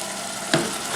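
Onions sweat in a pan for lasagna, a short steady sizzle with one brief clink in the middle, close and moderate in level, no talk.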